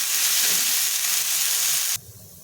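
Washed moong dal roasting in hot oil in a pan, giving a loud, dense sizzle that runs steadily for about two seconds and then cuts off sharply, leaving quiet background.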